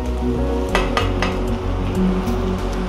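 Masala sizzling and being fried dry in a pan for a shrimp dumpling filling, with a steady close cooking hiss and several sharp clinks of a utensil against the pan.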